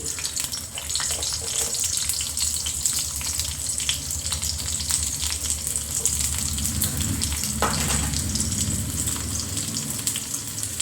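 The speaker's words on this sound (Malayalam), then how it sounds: "എണ്ണ ഒഴിച്ചു. അതിന് ഞാൻ കടുകൊന്നും ഇടുന്നില്ല. ഉള്ളി ഇട്ട് കൊടുത്തു." Onions frying in hot oil in a home kitchen, a continuous close sizzle with a few light scrapes and no talking.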